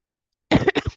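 After a moment of silence, a person under the weather gives a quick pair of close, dry coughs into a microphone during a public utility commission hearing.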